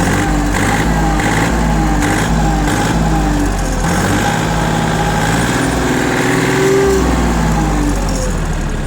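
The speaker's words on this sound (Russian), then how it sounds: "Вот полностью весь диапазон оборотов до 2500, ни капли выхлопа" A Yanmar F195 mini tractor engine, a small diesel, runs steadily and loudly nearby, revving through its full speed range up to about 2500 rpm and back, with a smooth, even mechanical drone.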